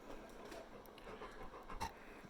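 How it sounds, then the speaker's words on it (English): A dog pants quietly close by in short, rapid, rhythmic breaths, with no voices. "So she's panting."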